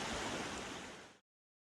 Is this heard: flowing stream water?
yes